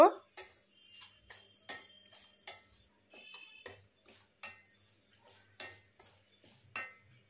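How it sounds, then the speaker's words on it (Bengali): Half a cup of semolina fries in ghee and oil on a low flame. A spatula scrapes and taps against the pan in a steady rhythm of short, crisp strokes, with quiet pauses between them. "দিয়ে দিলাম হাফ কাপ সুজি লো ফ্লেমে সুজিটাকে আমি দু মিনিট ভেজে নেব"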